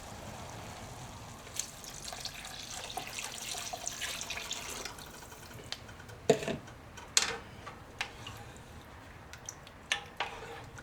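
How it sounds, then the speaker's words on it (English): Water poured into a cast iron pot of browned pork and cooked onions for pozole, a steady liquid wash with scattered clinks and splashes near the end. "I'm going to pour the water in."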